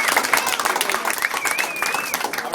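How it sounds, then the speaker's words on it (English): A steady round of applause from families at a Boy Scout troop bridging ceremony, dense continuous clapping with a whistle-like tone rising above it and some voices mixed in. "one big round of applause"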